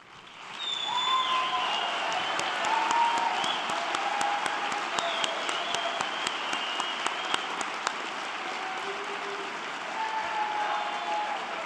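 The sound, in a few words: audience applause for Northwest Lineman College instructors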